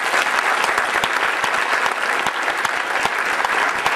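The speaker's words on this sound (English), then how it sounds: "Please give them all a round of applause." An audience at a county swearing-in ceremony applauds its elected and re-elected leaders, a dense, sustained clapping of many hands with sharp individual claps standing out, loud and close throughout.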